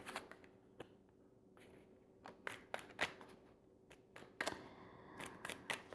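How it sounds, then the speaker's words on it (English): Tarot cards being shuffled and pulled, a run of crisp, close card flicks and snaps in uneven bursts, with quiet pauses between. "We're going to pull some more cards just to get a bottom line story."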